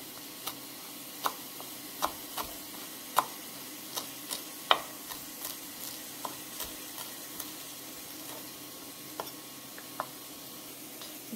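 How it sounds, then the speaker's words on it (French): Fresh coriander being finely chopped with a knife for pad thai, heard as sharp, irregular taps of the blade on a board spaced about half a second to a second apart, close and fairly quiet, with no talking. "je viens hacher ma coriandre ici finement"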